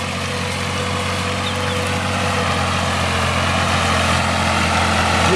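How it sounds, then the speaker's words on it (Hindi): A Fiat 480 tractor's diesel engine runs steadily at a low, even idle, with a continuous throbbing rumble that stays close and loud without a pause. "ट्रैक्टर जो ज़्यादा पसंद किया जाता है, जिसको पावरफुल और बड़ा बेहतरीन तस्वर किया जाता है, वो फीएट ट्रैक्टर है।"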